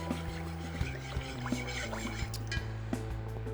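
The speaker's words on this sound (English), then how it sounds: "grab our bar spoon, and we're just gonna stir all those ingredients in together" A bar spoon stirs almond milk and sugar syrup in a pan over a medium-high burner, making light, irregular clinks over a steady low hum.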